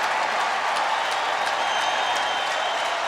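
A large crowd of more than 45,000 at an Atlanta Braves baseball game gives an ovation for Orioles star Cal Ripken. The dense, steady applause and cheering fill the whole stretch at an even, sustained level.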